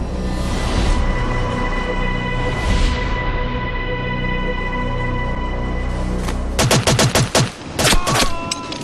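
Gunfire in a reenactment of a hostage rescue raid comes as rapid loud bursts of shots late in the clip, after a steady roaring background.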